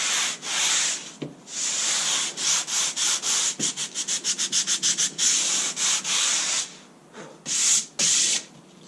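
Hand sanding wood with 180 grit sandpaper on a block, in a glazing rebate of a window frame: loud, rhythmic rasping strokes, some long and some quick in rapid succession, with no talk.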